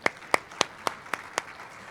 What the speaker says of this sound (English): so everyone give them a round of applause.